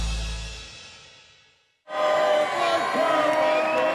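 A darts crowd at the Bahrain Darts Masters final roars with loud, sustained cheering and shouting that swells after a brief lull, filling the arena.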